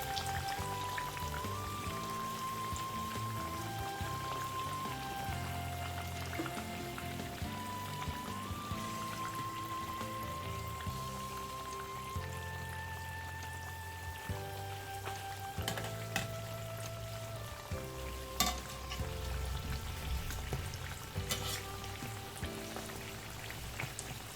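Homemade doughnuts frying in hot oil, a steady close sizzle and crackle running the whole time with a few sharper pops, alone without talk under a faint background tone.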